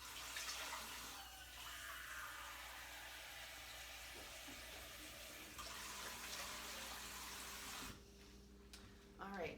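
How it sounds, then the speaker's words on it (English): Kitchen tap water running into a cooking pot, a steady close hiss and rush lasting several seconds before shutting off near the end. "So first I need to get 3 cups of water in here."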